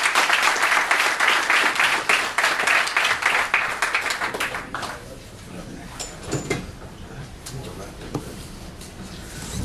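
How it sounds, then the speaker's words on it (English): Loud applause from an audience at an event for a Jive Records A&R director coming to the stage, strong for about five seconds, then thinning into scattered claps and faint noise. "Anthony Rich, give him a round of applause."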